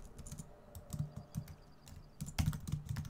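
Fingers type a search query on a computer keyboard in a quick, irregular run of close key clicks, with a louder cluster of presses near the end. No voices.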